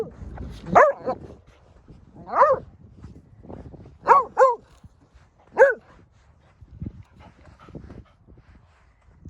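Dogs bark and whimper in short, scattered bursts, some doubled, close by against a quiet background.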